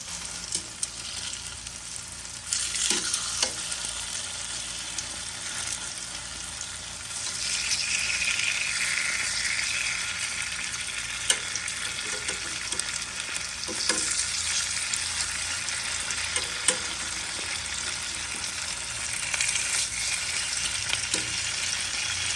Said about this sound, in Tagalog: Una nating gagawin ay lulutuin natin ang tofu.